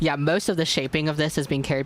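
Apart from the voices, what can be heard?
No everyday noise stands out behind the speech.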